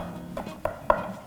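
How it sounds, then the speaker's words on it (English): A pastry cutter chops an egg into flour and butter, making two or three soft, dull taps and scrapes in quick succession, close and fairly quiet. "you're going to use your pastry cutter again, and you're just going to start chopping the egg in."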